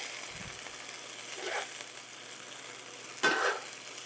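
Steak frying in a pan, a soft steady background sizzle broken by a low knock and two brief scraping bursts as it is moved, with no talking.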